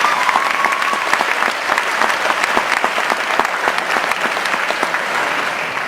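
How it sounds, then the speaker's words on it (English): A graduation audience applauds the teachers, a dense, steady wash of many hands clapping at close range that holds for about six seconds without pause. "let's give a second round of applause for the teachers"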